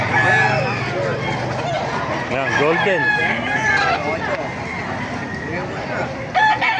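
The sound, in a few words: chickens and rooster crowing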